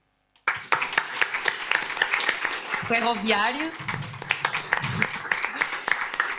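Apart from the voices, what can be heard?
audience applause for event partners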